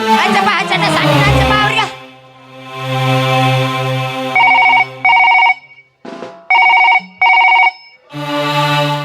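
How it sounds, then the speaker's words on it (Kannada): A telephone rings for an incoming call: a repeated electronic ringtone in several short, evenly spaced bursts, loud and close, following voices and music. "ನಾನು ಇನ್ಸ್ಪೆಕ್ಟರ್ ವಿಜಯನಿಗೆ ಫೋನ್ ಮಾಡಲೇಬೇಕು"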